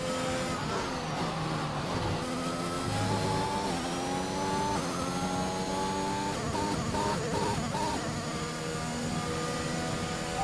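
An F1 race car engine in F1 2021 whines steadily through the final lap, its pitch rising and dipping with gear shifts and throttle changes, loud and continuous with no talk.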